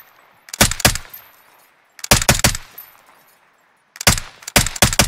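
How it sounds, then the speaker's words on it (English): Close, loud automatic gunfire in the video game Warzone, aimed at windows: three separate bursts of rapid shots with near-silent gaps between them. "Yeah, I was just shooting those windows."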